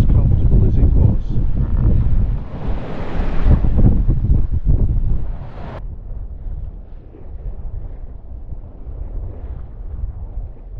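Heavy wind buffets the microphone aboard a small boat in rough, confused seas near Newlyn, with loud rushing gusts and water slapping the hull that ease to a lower, steadier roar partway through.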